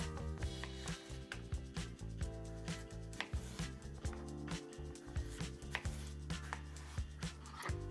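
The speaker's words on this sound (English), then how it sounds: "Then we'll cut our thin strips" A kitchen knife slices a potato into thin strips for fries on a cutting board, producing a quick run of close, rhythmic chops with short pauses between strokes.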